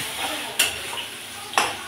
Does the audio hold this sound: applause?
no